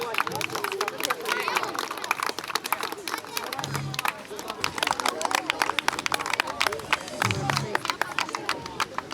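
A crowd claps through a sustained round of applause at an awards ceremony for an all-Ukrainian competition held in honour of the armed forces. The dense, even clatter continues while a voice speaks briefly over it.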